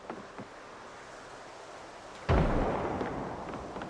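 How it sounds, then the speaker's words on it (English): A single loud gunshot goes off in the zombie survival game Project Zomboid, a sharp blast following quiet ambient rustling and then trailing off in a long decaying rumble. "That was a very loud gunshot."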